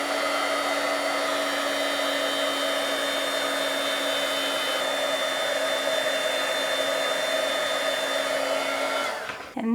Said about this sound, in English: this is a heat gun. I'm going to turn it on. It will be loud.